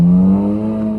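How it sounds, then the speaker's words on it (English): A loud Chevrolet Corvette C8 Z06 exhaust holds a steady high rev, a strong droning engine note that eases down slightly toward the end, close and alone. "A very loud C8 Z06, which if you guys do it right with the exhaust,"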